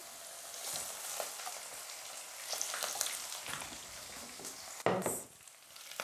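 Green chillies fry in hot oil for a tadka, or tempering, for masala moong dal, giving a steady close sizzle that flares briefly near the end.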